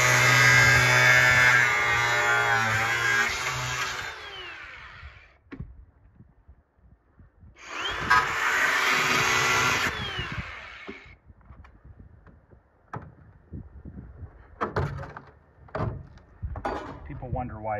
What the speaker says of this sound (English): I switched to a bigger grinder because that little one would take too long for these big holes